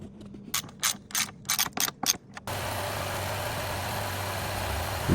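Ratchet clicking in rapid bursts while a cooling fan is refitted on a Honda Accord V6, followed by a steady loud broadband whir like an engine or fan running close by.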